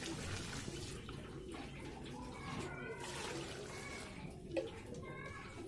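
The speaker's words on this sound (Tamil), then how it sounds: "3 கிலோ அரிசியை கழுவி நல்லா ஊற வச்சிடலாம்." Water sloshes and splashes steadily as basmati rice is washed by hand in a large batch for biryani, a faint continuous wet swishing with one brief louder splash near the end.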